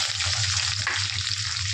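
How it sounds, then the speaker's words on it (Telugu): Onions, green chillies and curry leaves sizzle steadily in hot oil in a pan while a chicken fry is being made. The frying is close and even, with no talking. "ఇదైతే బాగా వేగిపోవాలి ఉల్లిపాయలు"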